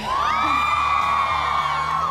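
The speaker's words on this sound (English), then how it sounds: "so if you have, give me a cheer" Fans at the London world premiere of Snow White and the Huntsman let out a loud, sustained, high-pitched collective scream that rises in pitch and holds steady throughout.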